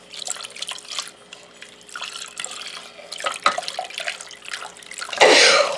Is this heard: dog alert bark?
no